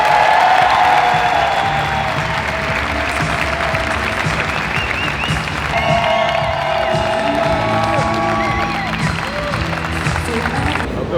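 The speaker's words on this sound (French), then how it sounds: "S'il vous plaît, des applaudissements de tonnerre pour le fondateur de CrossFit" A crowd at a CrossFit competition applauds and cheers for founder Greg Glassman, with loud sustained clapping, whoops and shouts, and a voice over a PA heard faintly through the noise.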